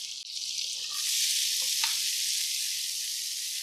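Onions dropped into about two tablespoons of melting butter in a pan for creamy Tuscan-style salmon, giving a steady, close, bright sizzle after a brief clatter at the start.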